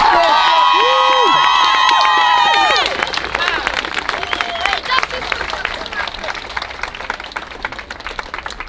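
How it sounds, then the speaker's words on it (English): Crowd at a Black Lives Matter rally in Crawley, with a shouted voice and whistle-like tones at first, then scattered clapping and cheering from the gathered people, loud and close. "Everyone give a clap for her sister, man."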